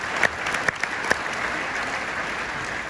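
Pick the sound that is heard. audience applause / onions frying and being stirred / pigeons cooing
audience applause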